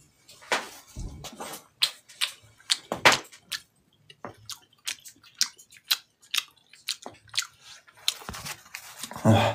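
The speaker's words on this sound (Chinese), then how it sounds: "我尝一口呢。" A bite of pork belly is chewed up close with wet, crunchy bites in an uneven rhythm, and faint background voices sound in a farmhouse kitchen.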